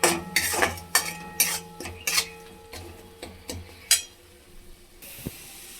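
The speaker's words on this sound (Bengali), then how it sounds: "এবার মশলাটাকে কষবো যতক্ষণ না তেল ছাড়ে।" Spatula scraping and clinking against a pan as masala spices are stirred and fried in oil, several sharp metallic knocks in an irregular rhythm over a soft sizzle, close and moderately loud, fading to quiet near the end.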